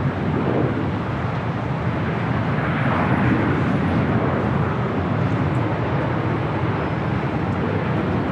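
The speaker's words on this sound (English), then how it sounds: "Yet another corporate flight arrival here on the north side." Corporate jet arriving on the north side of LAX, a steady, moderately loud broadband engine rush heard alone without talk.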